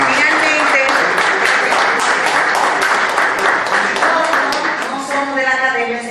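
Lecture audience applauding for Manuel Vitelio, a dense, steady burst of clapping that holds strong for several seconds before thinning slightly at the end, with a voice faintly audible over it.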